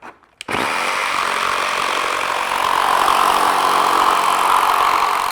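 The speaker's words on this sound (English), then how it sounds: "now with a traditional bit inside my jigsaw, with it upside down, I can finish off my cut" A jigsaw fitted with a traditional blade mounted upside down cuts steadily through the material, a loud continuous buzzing whine that starts abruptly after a brief pause and holds for several seconds, growing slightly louder toward the end.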